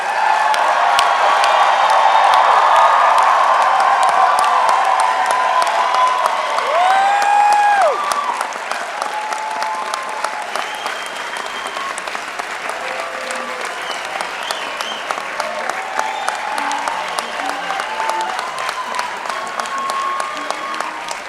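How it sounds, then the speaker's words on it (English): Loud, sustained applause from a large audience at a 2018 university undergraduate commencement ceremony, dense clapping with a few whoops and cheers that eases to a steadier, slightly quieter ovation after several seconds. "Please rise and give him a big round of applause"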